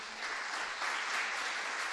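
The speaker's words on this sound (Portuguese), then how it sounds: "Dê um forte aplauso ao Senhor." A church congregation applauds in a dense, steady wash of clapping that runs unbroken for the whole two seconds, with no voices over it.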